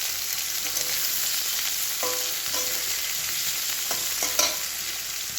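Chicken curry sizzles steadily in a pan, a constant close frying hiss broken by a few scraping stirs of a spoon against the pan.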